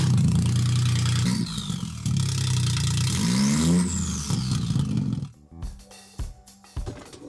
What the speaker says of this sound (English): we'll see what it sounds like with an open downpipe